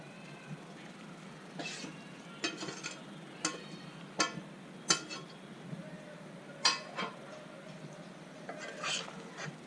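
Cooked rice and prawns for prawn biryani being mixed in a pot, a series of distinct metallic clinks and scrapes of a spoon against the vessel, fairly quiet and close, with no talking.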